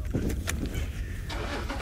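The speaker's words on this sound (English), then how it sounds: "There is another vehicle with us, that's why you can hear a car starting" A car engine starts close by on a live wildlife safari drive, a short cranking whir catching into a running idle, with a couple of sharp clicks over a rough, steady vehicle rumble.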